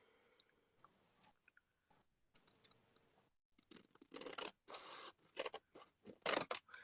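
Scissors cutting through craft paper at close range, a run of sharp crisp snips and crunchy slicing strokes in quick bursts after a quieter stretch with faint background sounds.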